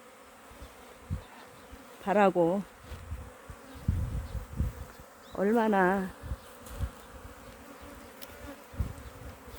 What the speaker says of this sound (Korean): 꿀벌들이 지금 꿀 따러 가고 싶어서 이렇게 소리를 많이 지르는 것 같아요